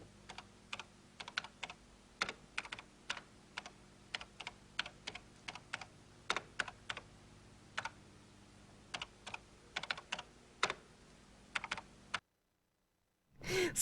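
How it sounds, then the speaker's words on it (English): Slow, uneven hunt-and-peck typing on a computer keyboard, single keystrokes clicking up close with irregular gaps over a faint room hum, ending in sudden silence and a brief noise. "Slick typing skills. The hunt and peck is real."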